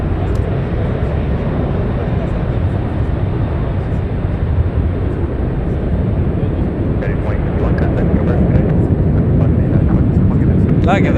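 A United airliner at San Francisco airport gives off a steady, loud, broadband jet roar that stays even for the whole span, with no pauses.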